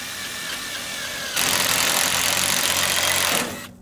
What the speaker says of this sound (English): now we're going through and pre-drilling a whole bunch of sheets at the same time